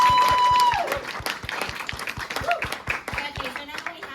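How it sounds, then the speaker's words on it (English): After a short play at a ten-minute play festival, the audience claps in a loose, rhythmic patter that swells and dips, with voices talking and calling out over it. "now an extra round of applause for me because I was amazing"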